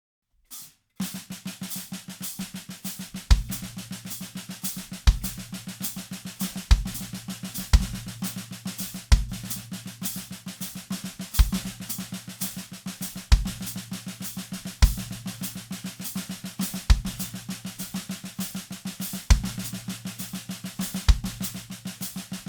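A drum pattern of fast, crisp stick hits with deep kick drum thumps landing between them at regular intervals, played steadily throughout.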